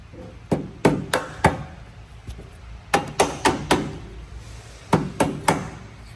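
Sharp metallic taps from a mallet strike a boat's U-bolt side to side in quick clusters of three to five, pausing between groups, loud and close.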